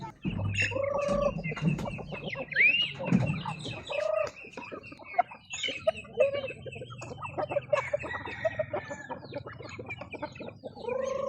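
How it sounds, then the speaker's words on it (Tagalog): Several chickens cluck and squawk close by at feeding time in a busy, continuous chorus, with occasional higher calls rising above the flock. "adto na ta sa atong manokan mga idol kay magpakaon ta sa atong mga manok"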